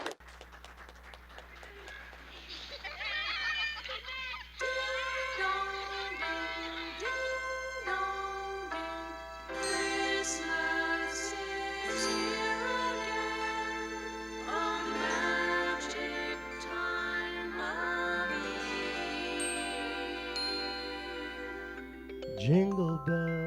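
A bright, festive song intro with chiming bell-like tones over sustained harmonies, playing steadily and loudly with no voices.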